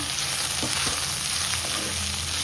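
Ground green chili spice paste frying in a pan makes a steady, close sizzle with a few soft stirring scrapes, and no one speaks.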